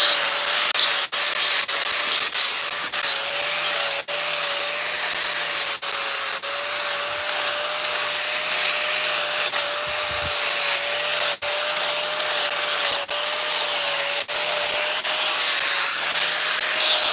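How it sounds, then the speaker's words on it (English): Sanding a chainsaw-carved wooden bluejay, a loud continuous scratchy rasp of abrasive on wood with regular brief dips as the stroke changes, close and steady with no talking. "I'm gonna sand him, burn him, and hopefully I don't have to sand him again."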